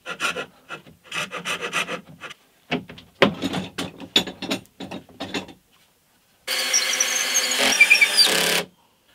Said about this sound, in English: let's just see whether it at least approximates a drum sander